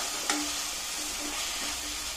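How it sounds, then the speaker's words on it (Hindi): Tomato and spice masala fries in a pan for paneer bhurji, a steady low sizzle with a few brief stirring scrapes, close and alone without talk. "इसको बस अच्छे से मसाले को भून लूँगी"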